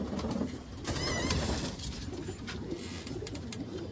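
Pigeons in a loft give soft, low cooing, faint and continuous, with light rustling and shuffling around them.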